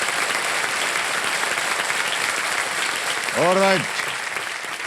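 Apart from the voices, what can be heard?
studio audience applause on a game show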